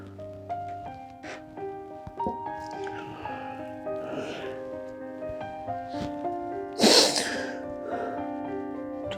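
A single loud sneeze bursts out in the middle of a scene from a Hindi short film, set against steady background music and a few softer sounds.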